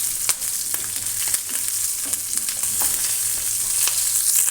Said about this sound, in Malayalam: ജീരകവും പച്ചമുളകും ഇട്ട് കൊടുക്കുക. ഒന്ന് ചെറുതായി റോസ്റ്റ് ചെയ്യുക.